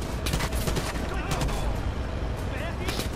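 Sustained gunfire in Far Cry 5 during the Hours of Darkness DLC, dense rapid shots over a heavy rumbling din, with voices talking throughout.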